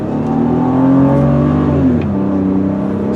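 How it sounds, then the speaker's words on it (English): A silver 2003 BMW 530i pulls away on a test drive, its engine note rising smoothly and steadily, loud and close from inside the car, with no talking over it. "All right, we're gonna take it for a little spin now. All right, and off we go."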